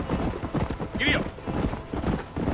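Horse hooves clip-clop at a steady gallop in the Western video game Red Dead Redemption, with a voice calling to the horse partway through and game dialogue over the continuous rhythmic hoofbeats.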